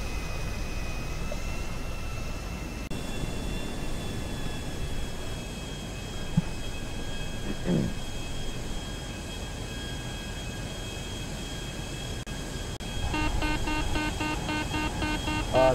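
A steady video game airplane engine drone on a runway with a high whine holds throughout, joined near the end by a pulsing mechanical rattle, with no voices.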